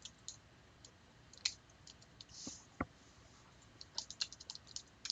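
A new computer keyboard being typed on during a math lecture: sparse, soft clicks and taps at irregular intervals, with a few sharper keystrokes and a brief quick flurry near the end, faint and close.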